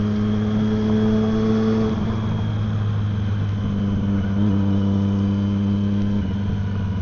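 Steady Triumph Street Triple 675 sport motorcycle engine drone at cruising speed, loud and continuous, with a faint shift in pitch partway through.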